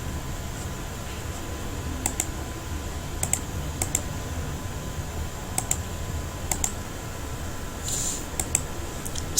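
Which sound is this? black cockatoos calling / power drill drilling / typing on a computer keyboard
typing on a computer keyboard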